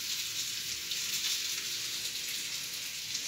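Chicken pieces fry in a pan ahead of sautéing for chicken curry, giving a steady, dense hiss of sizzling oil that holds evenly throughout, close by with no talking.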